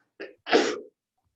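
A single sharp sneeze close up: a short intake followed by a loud burst, then silence.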